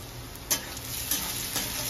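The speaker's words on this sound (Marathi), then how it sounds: "आताशी फक्त मी कांदा फोडणीला दिलाय" Onion sizzling in hot oil as a tempering, a steady close crackle with a few sharp scrapes of stirring on the pan.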